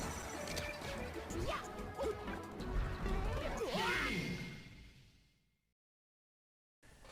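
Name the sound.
fireball hitting in Super Smash Bros video game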